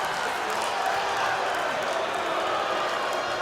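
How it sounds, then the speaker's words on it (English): A high school basketball crowd in a gym, Dallastown against Red Lion, gives a steady roar of disapproval at a referee's call, with shouting and voices merging into one continuous wash of noise. "Crowd does not agree with that one."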